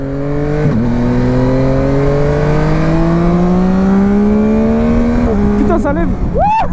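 A Yamaha Tracer 900 GT motorcycle engine accelerates loudly and close up, its pitch climbing steadily through a gear before a shift, with a voice speaking briefly near the end.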